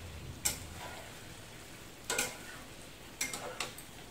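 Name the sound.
stirring chilli chicken kofta with vegetables in a pan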